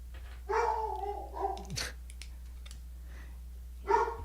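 A dog named Hilo barks from a bed indoors: a drawn-out whining bark, a short yelp, then another bark a couple of seconds later, over a low steady hum.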